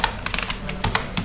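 Typing on a computer keyboard during spreadsheet work in Excel: a quick run of light, close key clicks in an irregular rhythm, with no talk.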